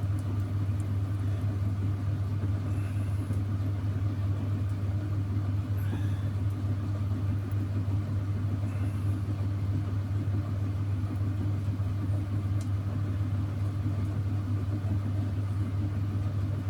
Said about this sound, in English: So that's as slow as my wheel gets at its slowest speed